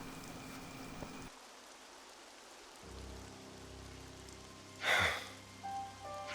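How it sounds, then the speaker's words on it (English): Steady hiss of rain falling in the video game Xenoblade Chronicles 3, a constant wash broken by a brief louder splash near the end, with soft tonal game sounds underneath. "now you can just talk to Splish Splash, pay some money, and you can probably get it to rain"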